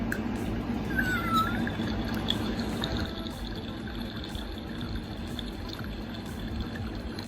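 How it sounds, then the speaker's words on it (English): A faint electronic meow from a Halloween cat toy rises briefly over a steady bubbling, trickling cauldron sound that continues throughout. "There is a little bit of a Binks meow in there with the bubbling cauldron sound."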